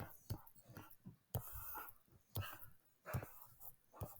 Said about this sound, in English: As my dog decides to do rolls on the floor next to me.